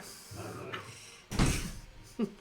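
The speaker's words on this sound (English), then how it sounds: "You want to close the door?" A door swings shut indoors with a sharp, fairly loud thud and a brief rattle, followed by a short knock, heard at close range with faint room noise and no talk.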